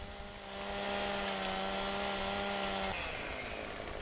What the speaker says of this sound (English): Get the old mighty chainsaw out and